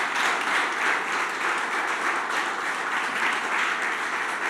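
A church congregation applauding steadily, a thick continuous wash of many hands clapping in a large room, with gentle swells in intensity.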